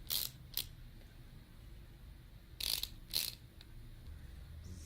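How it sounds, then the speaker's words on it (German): Screws are driven in during Car Mechanic Simulator 2018, with two pairs of short, sharp mechanical ratcheting bursts spaced apart over a low, steady hum. "Wollen wir, ach, die Schrauben reindrehen."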